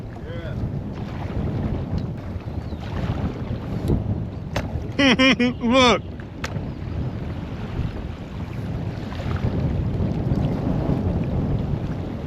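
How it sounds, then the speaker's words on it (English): Strong gusts buffet the microphone while kayaking on the shallow Upper Mad River under storm clouds, a loud, continuous roar of wind with water sounds, as someone speaks briefly and a brief whistle-like tone cuts through midway. "Man, that wind is crazy."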